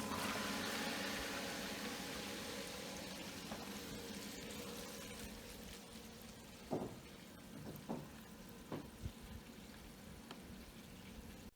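Water from a Bestway Flowclear sand filter pump flowing back into a swimming pool, a steady broadband rush and splash with a few small gurgles and knocks, close and continuous.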